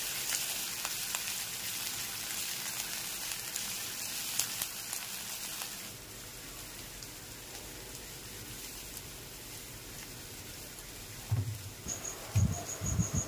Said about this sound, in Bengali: তো চলো নুন দিয়ে দিই, তারপর হালকাভাবে ভাজতে থাকবো।